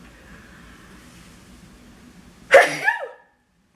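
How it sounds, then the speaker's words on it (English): A single sharp sneeze bursts out after a few seconds of quiet room noise, loud and close, trailing off quickly. "About to sneeze."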